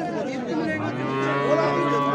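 Cattle at a large livestock market give a long, clear moo that rises and holds steady, loud and close, with faint crowd murmur underneath.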